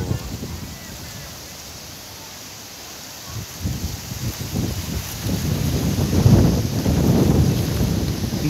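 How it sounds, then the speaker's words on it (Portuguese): Strong wind gusts on a cloudy Sunday evening in Porto Alegre, a roaring broadband rush buffeting the microphone that builds louder over several seconds, with a few brief voice sounds. "Olha o vento!"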